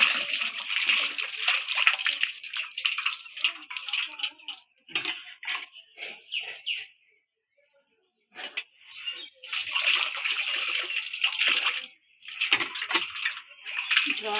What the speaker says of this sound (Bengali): ভালো করে এখন ধুয়ে নেব